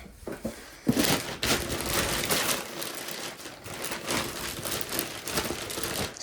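Plastic trash bag crinkling and rustling as it is handled while a storage unit's contents are unpacked, a steady run of close, crisp crackles and rustles with no talk.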